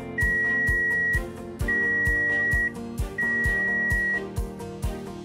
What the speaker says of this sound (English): When your coffee is ready, you will hear 3 beeps